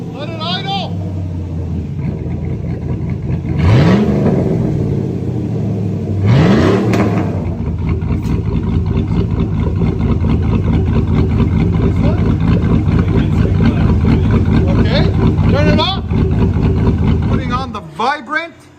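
A cammed Chevrolet Silverado with an aftermarket muffler rumbles loudly and close at idle, its lopey cam burble steady, with a few quick throttle blips that rise and fall, while people talk over it.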